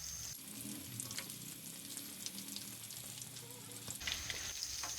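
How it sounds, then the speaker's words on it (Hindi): Potato bread donuts frying slowly in oil over low heat, an even, faint bubbling sizzle that continues without a break, with a thin high hiss at the start and the end. "स्लो आग पर हम फ्राई करेंगे ताकि ये एकदम क्रिस्पी बने।"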